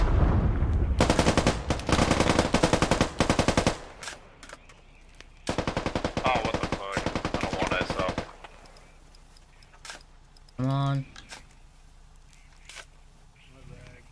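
Rapid automatic gunfire rings out in a large 40v40 squad battle video game, loud sustained bursts with short gaps, followed by quieter stretches of scattered shots and a brief rising tone near the end.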